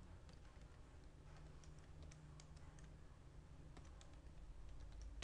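Quiet keystrokes on a computer keyboard while entering SQL code, a sparse, irregular scatter of soft clicks over a low background hum.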